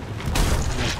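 A ship's cannon firing in the pirate game Sea of Thieves gives one deep, heavy boom that rolls out over about a second, close and loud.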